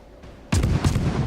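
Warship guns booming in the World of Warships naval battle game, a sudden heavy salvo breaking from quiet into a sustained roaring rumble with a couple of distinct blasts.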